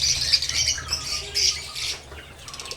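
Pet birds kept in a net enclosure chirp and squawk in quick overlapping bursts, close by, with a flutter of wings and a steady low hum underneath.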